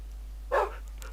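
A single short dog bark from Minecraft, a brief synthetic yelp rising out of a quiet background and fading within a fraction of a second.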